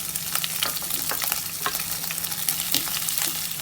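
Sliced capsicum hits hot olive oil with garlic in a pan, a steady close sizzle with quick crackles and stirring clicks, no voices over it.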